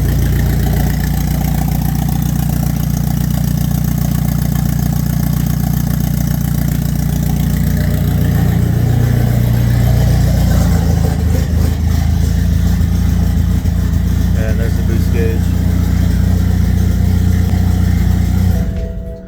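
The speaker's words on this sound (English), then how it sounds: "we are running with the new turbo" A BMW N20 engine fitted with a new big turbo idles steadily on a first start, a loud, close, unbroken low rumble with a faint rise in intensity partway through.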